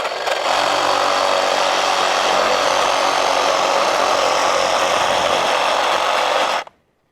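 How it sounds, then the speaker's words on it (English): A reciprocating saw cuts steadily through wood on a pond stand, a loud, continuous buzzing drone that holds for over six seconds and then stops abruptly. "The reciprocating saw did really well."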